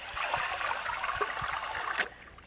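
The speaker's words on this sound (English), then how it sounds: "All the water drains out through those holes." Water drains from the washing bucket of a compact laundry washer in a truck camper, a steady close hissing trickle that cuts off abruptly near the end.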